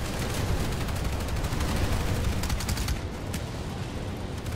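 Rapid suppressed fire from a TRAC-5 S carbine in the video game Planetside 2: a dense, steady stream of muffled shots with no pauses, loud and close throughout.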